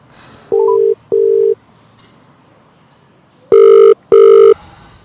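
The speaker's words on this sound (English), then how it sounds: "let's ring Tony Scott live on air." Phone call ringing through a Bluetooth-connected Samsung S23: two short paired beeps, a pause, then two louder, longer ring tones, each pair crisp and electronic.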